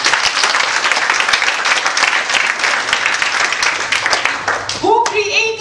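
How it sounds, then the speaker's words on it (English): A church congregation claps in praise, a dense, steady wash of many hands sustained throughout, with a voice rising over the crowd near the end. "Can we give Him a clap of praise?"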